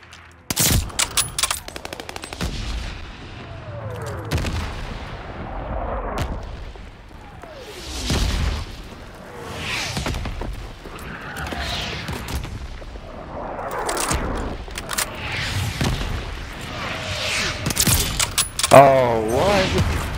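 Mortar strikes and gunfire in Call of Duty: Vanguard come as loud, repeated bursts of shots and booming impacts through the whole stretch, with in-game voices calling out between the blasts.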